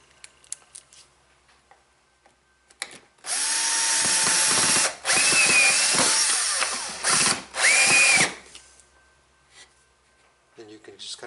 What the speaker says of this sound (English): pocket screw it to the jig